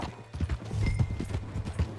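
Horse hooves clip-clopping at a brisk, steady pace in the Red Dead Redemption 2 video game, close and fairly loud, with no speech over them.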